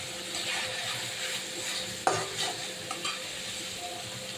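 Spice paste frying in oil for a fish-head and potato curry, a steady close sizzle with soft stirring scrapes and one sharper utensil knock partway through, no talking.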